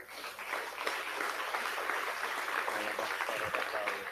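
A church congregation claps together in a continuous patter of many hands, moderately loud and sustained, with murmured voices faintly beneath.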